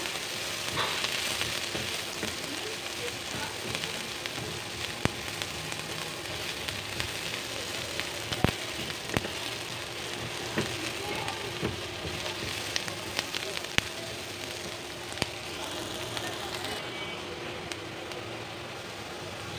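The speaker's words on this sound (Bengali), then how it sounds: "পেঁয়াজটাকে আমি বেশি ভাজবো না" Onion frying lightly in a pan gives a steady, close sizzle, with soft crackles and a few sharp clicks of stirring throughout.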